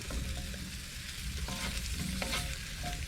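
Mushrooms tumble into a hot frying pan already holding shallots aboard a narrowboat, bringing a loud steady sizzle with stirring scrapes of a utensil through the pan.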